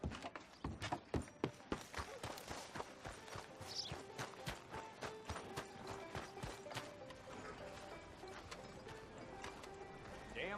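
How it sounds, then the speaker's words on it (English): Horse hooves clip-clop steadily in Red Dead Redemption 2, a brisk, even rhythm of hoofbeats running alone throughout, fairly faint and close. "Damn horse kicked me off again"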